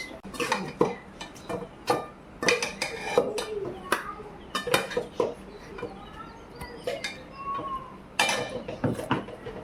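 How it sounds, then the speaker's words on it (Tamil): Onion and tomato tipped into a pan and stirred: repeated metal clanks and scrapes of a spoon against the cookware, with light clinks, close and fairly loud in an irregular rhythm. "இப்போ இந்த வெங்காயம் தக்காளி கொஞ்சம் போட்டலாம்."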